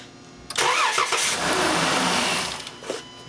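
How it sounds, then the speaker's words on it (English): A Volkswagen Routan or Chrysler Town and Country minivan with a no-start fault cranks briefly, then its engine catches and runs loudly and steadily for a couple of seconds before settling. "I cranked it and it did not energize."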